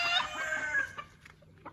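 Gamefowl chickens being kept for bathing let out a burst of loud clucking, close by, that trails off into a few quieter scattered clucks.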